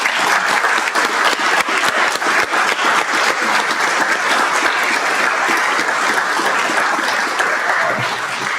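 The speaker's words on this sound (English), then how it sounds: "just give them a round of applause for all they do for us." A round of applause at a city council meeting fills the room with dense, steady clapping that holds at full strength for several seconds before easing slightly at the end.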